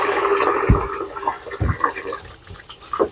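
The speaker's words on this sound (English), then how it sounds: "So I'm gonna drain out a little bit of this water." Water drains from a kitchen sink with gurgling, glugging bursts over a steady running-water wash, close and moderately loud.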